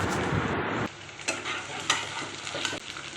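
Onions, chopped tomato and green chili fry and get stirred in a pan, giving a steady crackling sizzle with scraping stir strokes and a drop in loudness after the first second.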